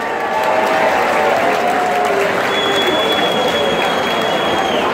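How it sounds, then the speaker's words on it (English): Loud crowd applause mixed with cheering and shouts after a novice boxing bout, a dense, close, sustained roar of clapping across the whole stretch. "have a big round of applause for another excellent contest,"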